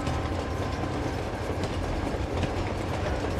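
A train in the video game Uncharted 2 rolls past close by in a steady, dense rumble with rattling, clickety-clack wheel noise and no voices over it.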